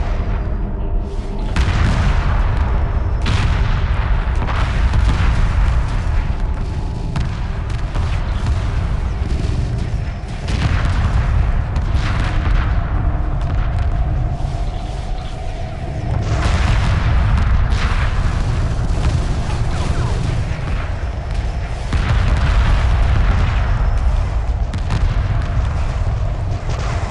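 Continuous heavy weapons fire and booming explosions rolling almost without pause in a Homeworld Remastered space battle against an alien ship, loud and dense throughout, with faint talk now and then.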